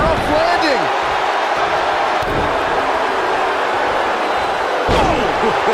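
WWE 2K19 wrestler slammed onto the mat: a couple of heavy thuds ring out over a loud, constant arena crowd roar, with excited voices talking across the match.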